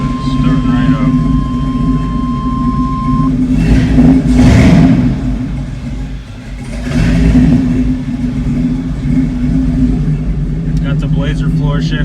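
An LS-swapped Chevy C10 truck engine starts and revs close by, a steady low rumble rising into two throttle swells, with a person talking over it.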